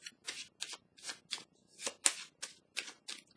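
Tarot cards riffled and shuffled in quick repeated bursts, about nine crisp flutters in steady rhythm, close and fairly quiet with no voices.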